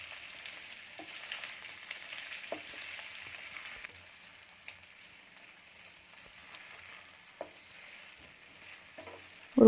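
Potato pieces fry in oil with a soft, continuous sizzling hiss, broken by a few light stirring clinks and a sharper knock at the very end.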